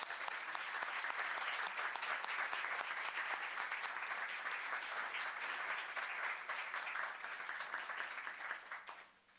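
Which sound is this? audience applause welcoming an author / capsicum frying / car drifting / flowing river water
audience applause welcoming an author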